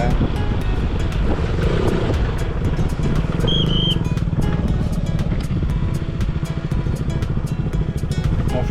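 A motorcycle ridden on the cold mountain road from Leh up to Khardung La pass, its engine droning steadily and close throughout with heavy wind rush, while a rider talks over it.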